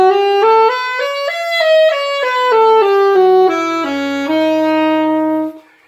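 A horn plays a super locrian enclosure exercise in C, rising stepwise through the scale, then descending to a low note below the tonic before resolving, loud and sustained with no talk.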